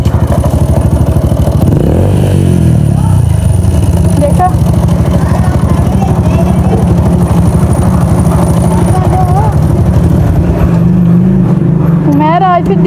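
A motorcycle with a flat tube and a broken chain runs loudly close by, its engine droning and rising in pitch as it revs. Voices are heard over the engine.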